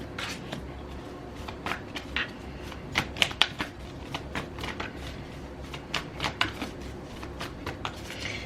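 Tarot cards being shuffled by hand, a rapid series of crisp riffling snaps and soft flutters, close and moderately loud, repeating in irregular bursts.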